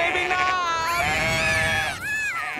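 A cartoon sheep gives a loud, wavering bleat that rises and falls, followed by a second shorter bleat in an animated action scene.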